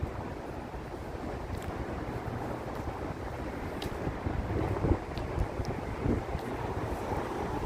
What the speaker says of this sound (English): The wind picks up a little, but still not too bad